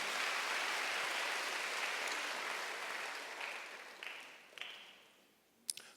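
A church congregation claps during a Sunday worship service, a dense wash of applause that swells briefly and then thins out, with a few scattered final claps near the end.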